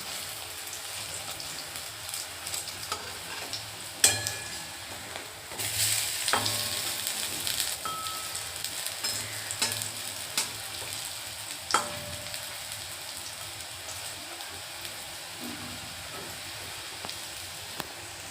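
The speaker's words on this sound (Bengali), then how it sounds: "এরকমভাবে সমস্ত বড়াগুলোই আমি ভেজে নেব।" Bora fritters frying in hot oil make a continuous close sizzle and bubbling, swelling louder for a few seconds as they are turned, with occasional sharp clicks of a utensil against the pan.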